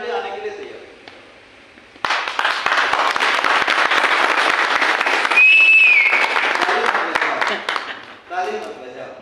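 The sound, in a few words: workshop audience clapping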